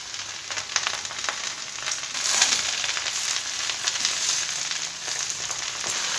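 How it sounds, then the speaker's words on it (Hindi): Okra and sliced onions fry in a pan for bhindi gosht, giving a steady, close hiss of sizzling that runs throughout with no voices. "भिंडी के साथ ही आपने प्याज को फ्राई कर लेना है"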